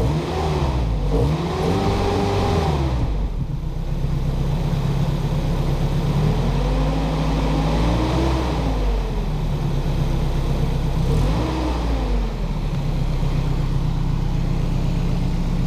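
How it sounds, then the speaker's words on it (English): Nissan 240SX S14 engine revved repeatedly, loud and close, each blip rising and falling in pitch over a steady idle drone, with about three distinct rev swells across the stretch. "right now you'll rev it"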